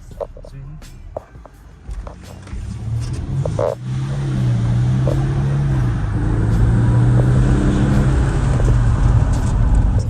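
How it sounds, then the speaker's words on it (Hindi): A heavy six-cylinder SUV in sports mode launches from a standstill, its engine note climbing steadily into a sustained loud rev, with a few knocks and a voice speaking early on. "अब हम करते हैं इस कार को थोड़ा स्पोर्ट्स मोड पे एंड आपको इसका थोड़ा बहुत लॉन्च सिखाता हूँ"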